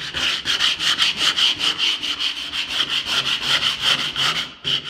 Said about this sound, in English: It's 100 grit sandpaper. That should do it. Scuff it up real quick.